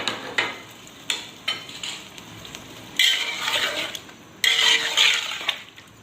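A large pot of Sindhi chicken biryani mixture is stirred and turned, giving close scraping, wet churning bursts over a soft sizzle, with louder surges of movement in the second half.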